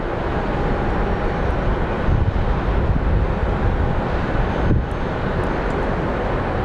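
An airliner departs Phoenix Sky Harbor International Airport on a flight to Portland, its steady broadband jet roar loud and continuous throughout, with wind buffeting the microphone and no talk.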